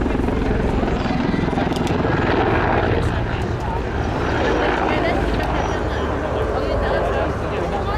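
A Czech Air Force Mil Mi-24 Hind helicopter comes in for a rolling landing on a main runway at an air show, its loud, steady rotor and turbine roar filling the air with wind noise and no pause.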